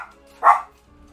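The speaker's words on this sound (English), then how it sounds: "Do not start barking." A single sharp bark from Faye the dog in Nancy Drew: The Captive Curse, loud and close, briefly breaking an otherwise quiet background.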